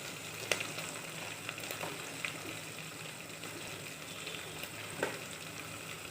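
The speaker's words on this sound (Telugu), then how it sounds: "కొద్దిగా వేగిన తర్వాత టమాటో వేసుకోవాలి" Tomato frying in a pan for a Rayalaseema uggani bajji dish, a continuous soft sizzle with occasional small pops and stirring clicks, close and steady, no talking.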